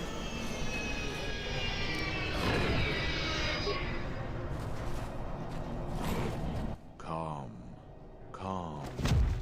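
A bomber aircraft in the game KOTOR 2 roars overhead with a loud sweeping engine drone. It then cuts off abruptly and voices follow, speaking over the fading background.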